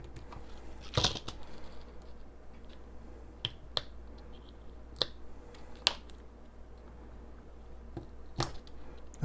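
Scissors cutting open a small package, a series of sharp, separate close snips spaced irregularly over quiet background.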